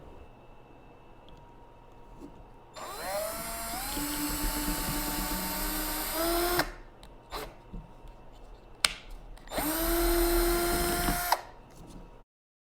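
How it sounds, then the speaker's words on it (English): A power drill whines loudly in two long bursts, pitch rising as it bites through plastic cups, with a short quiet gap and a brief buzz between. "we're gonna drill the hole"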